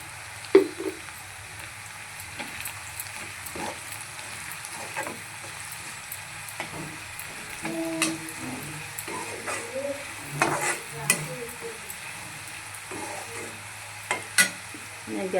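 Okra fried with turmeric over a low gas flame, a soft continuous sizzle broken by irregular scraping stirs of a spoon against the pan, close by and with no talking.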